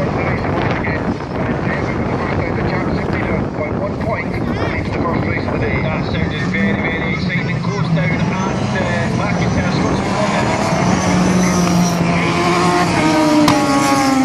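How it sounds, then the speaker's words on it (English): A race car brakes on the track, its engine roaring loud and close throughout, with rising and falling whines under heavy wind buffeting on the microphone. "Trying to get on the brakes on the race once again."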